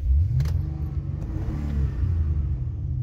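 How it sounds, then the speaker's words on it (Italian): A Maserati 3200 GT engine starts and rumbles deep and low nearby, revving up a couple of times before holding a steady throaty idle. "questa non brontola come la Ferrari, ma ha un rumore più cupo"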